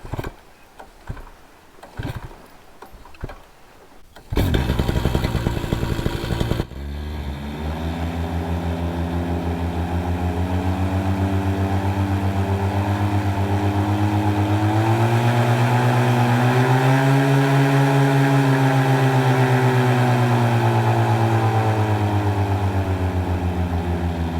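A Vittorazi Moster 185 paramotor engine coughs into life after a few clicks and pull attempts, then runs loud and steady, its drone rising smoothly through the revs after carburetor tuning and holding near full throttle.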